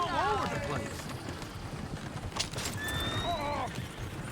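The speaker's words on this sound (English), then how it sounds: "Oh, shit, the horses!" Horses in the Red Dead Redemption 2 video game give loud neighs and whinnies at the start and again near the end, with busy commotion and footfalls in between during a fight in Valentine.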